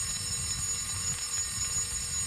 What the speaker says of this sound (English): the shrill sound of the fire alarm began to resound throughout the building